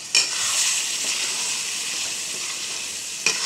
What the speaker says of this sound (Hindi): अब इस स्टेज पे आके हमें अपनी गैस बंद कर देनी है और इसमें हमें विनेगर डालना है